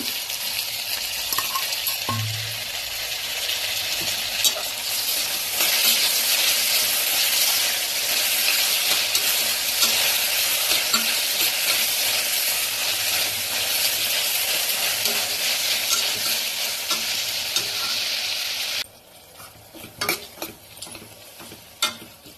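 Chopped tomatoes cooking in a pan for a hotel-style mushroom gravy, a loud continuous sizzle with stirring scrapes that drops abruptly to quieter scattered clicks and taps near the end.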